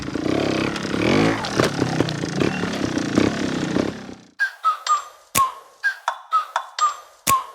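A Honda Montesa 315r two-stroke trials motorcycle engine revs hard and loud nearby for about four seconds, then cuts to a series of sharp, rapid blips of the throttle with brief pauses between them.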